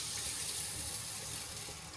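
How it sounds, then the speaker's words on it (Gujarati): Long-grain rice being rinsed in water in a home kitchen, a steady, soft wash of running and swirling water heard close up, alone and without talk. "અહીંયા ચોખાને આપણે સારી રીતે બે પાણીથી સરસ રીતે ધોઈને સાફ કરી લઈશું"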